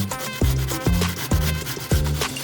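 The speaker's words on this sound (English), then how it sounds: "Next we need to grate it." Cucumber scraped on a fine grater in steady strokes, four distinct rasping passes about half a second apart, close and crisp with no talking.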